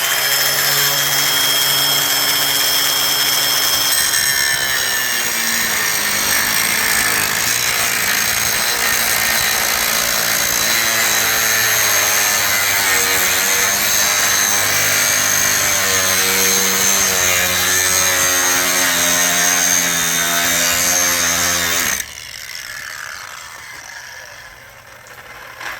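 Ryobi angle grinder with a 4.5 inch disc cutting through material, a loud sustained high whine with shifting pitch as the disc bites for about twenty seconds, then dropping away to a quieter spin-down.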